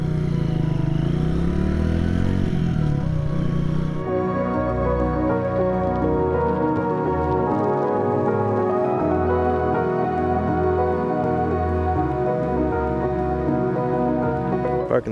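Motorcycle riding along a city street and pulling up to park, with a steady engine hum that shifts to a lower, rhythmic idle partway through as the bike slows and settles. Traffic noise sits faintly behind it.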